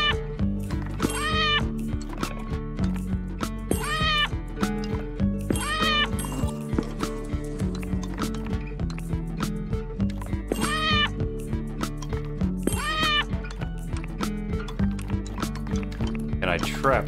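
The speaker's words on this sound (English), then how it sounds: "Yeah, I guess it's a cat." Cat meows in the video game Arranger, several rising, harmonic mews recurring every couple of seconds over steady, busy game music with clicking effects.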